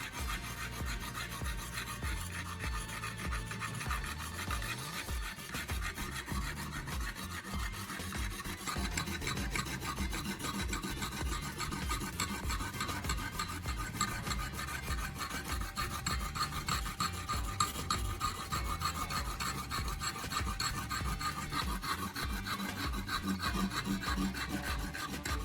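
A knife blade is drawn repeatedly across a simple sharpening tool, making a continuous, fairly quiet rasping and scraping that carries on steadily without pause.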